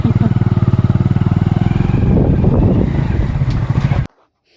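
A motorcycle carrying four riders heads to the market for Holi colour powder, its engine chugging loudly and rhythmically up close, then roaring more roughly before cutting off sharply near the end.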